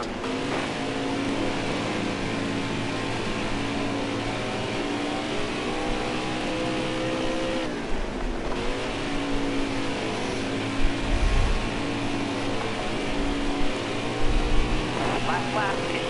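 A stock car's engine howls steadily through a NASCAR Heat 5 race, with constant high revving and sporadic scrapes or thumps, under someone talking.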